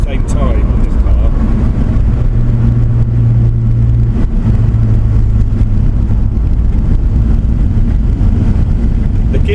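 A Toyota Supra MK4 with twin turbos accelerates hard, its engine droning loud and close with a rising, continuous roar that holds throughout, with a voice faintly over it.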